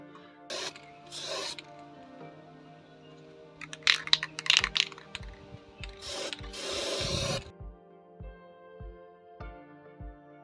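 Price sticker being peeled and scraped off a tray for a boho home décor project, giving intermittent rubbing, rasping scrapes and tearing bursts close up, with small clicks and pauses between strokes and no talk.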